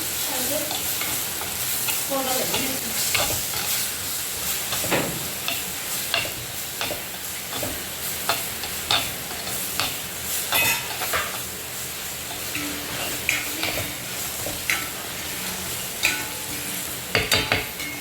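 Spices being stirred into prawn curry in a pan, with a steady close scraping and clinking of a spoon over a continuous low sizzle, and sharp stirring strokes recurring throughout.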